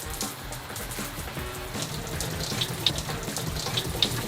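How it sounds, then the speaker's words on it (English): Shower water running steadily aboard a narrowboat, a broad continuous hiss of spray with a few small drips or knocks standing out near the end; no voices. "Next up, testing the shower."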